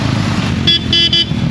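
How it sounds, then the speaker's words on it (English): A car horn sounds in three short honks close together, loud over steady engine rumble from a road trip through the Southwest national parks, with no talking. "The red one honked."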